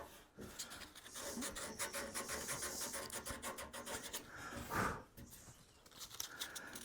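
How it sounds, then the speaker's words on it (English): Hand sanding of wood on a rocker cradle build, a steady rasping scrape that continues back and forth throughout with one louder stroke near the end, close by and with no talking. "3 hours non-stop sanding."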